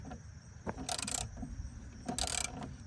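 Socket wrench with an adjustable-angle head ratcheting on a front shock nut of a 1988–98 Chevy/GMC C1500 2WD pickup, two short bursts of rapid metallic clicking close by with no talk.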